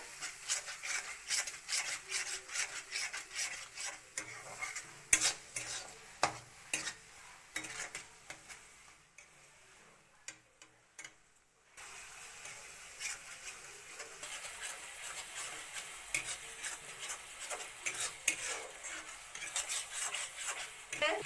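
A spoon repeatedly scrapes and stirs onion, turmeric and salt spice paste in a pan while it sautés for Bengali puti fish paturi, rhythmic rasping strokes up close, pausing briefly midway before resuming, with no talking.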